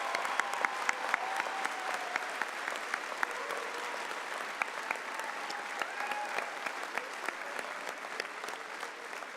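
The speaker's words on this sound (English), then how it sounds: "One last clap for these guys" Sustained, dense applause from a large audience at a 2018 NorQuest College convocation ceremony, steady and even throughout with no break, the hall full of overlapping claps.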